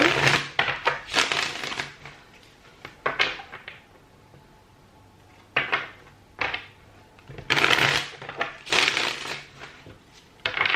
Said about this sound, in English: Just going to give your cards a little shuffle.